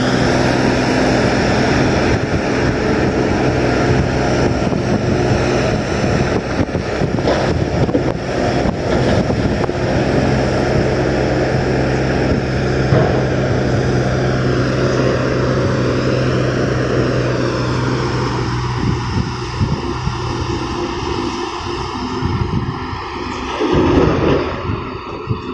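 An engine pulls up a slope in first and second gear, a steady loud drone with harmonic bands that shift and dip near the end, some wind buffeting the microphone.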